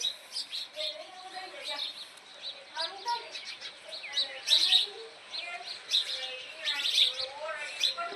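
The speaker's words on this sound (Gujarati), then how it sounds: "જો અત્યારે સવારનું છે ને મસ્ત મજાનું વાતાવરણ હોય અને જો છે ને ચકલા બોલે છે" Sparrows chirp in the morning open air, with quick, faint tweets repeating in clusters at a moderate distance throughout.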